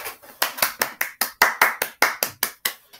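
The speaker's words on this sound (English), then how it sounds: "Give me a clap." One person claps alone after a story reading, about thirteen sharp, distinct hand claps in a fairly steady rhythm, each ringing briefly, close and clear with silence between.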